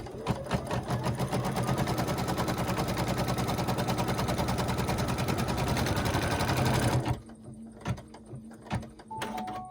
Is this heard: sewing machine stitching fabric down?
yes